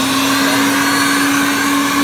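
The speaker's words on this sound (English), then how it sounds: "Crank the machine up and do the extraction. And we cut the machine on." Carpet extractor machine running while pulling rain water out of a vehicle's interior, a loud, steady vacuum-like whine with a constant high tone, alone and unbroken throughout.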